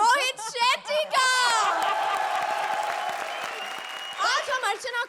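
Studio audience applause and cheering on the Comedy Circus stage, a dense sustained wash of clapping from about one to four seconds, with laughter and voices at the start and end.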